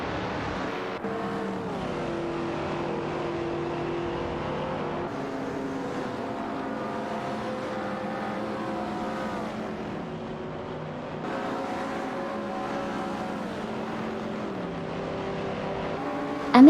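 Race cars in an AI racing video game, engines whining steadily with rising and falling pitch as they shift gears and overtake, a continuous close motor drone with no voices.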